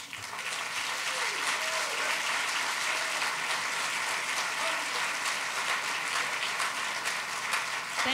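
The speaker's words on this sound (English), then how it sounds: "Let's give them all another round of applause." Audience applause at a Fulton County Commissioners inauguration ceremony, sustained clapping from a large crowd at an even level for the whole stretch, fairly distant and without speech on top.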